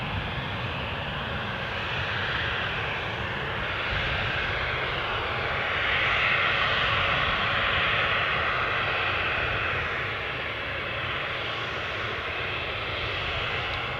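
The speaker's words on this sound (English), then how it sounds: "Just in time to see this Embraer 190 standard depart for Paris Charles de Gaulle," An Air France Hop Embraer 190 jet departs, its engine roar steady and close, swelling slightly in the middle before easing back, with no voices.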